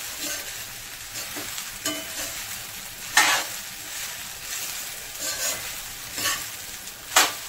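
Sabudana khichdi with peanuts and potato frying over medium heat, stirred in a pan: a steady soft sizzle punctuated by several sharp scraping spoon strokes at irregular intervals, close and quiet, no talking.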